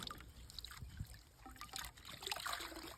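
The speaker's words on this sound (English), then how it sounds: "So just rinsing and rinsing" Water trickles and splashes into a bucket during rinsing in a house renovation, soft and close with uneven dribbling and small splashes, and no talking.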